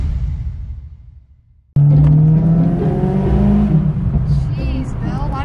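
A car engine suddenly cuts in loud and close, then revs and pulls hard with a rising, steady drone as the vehicle accelerates from inside the cabin.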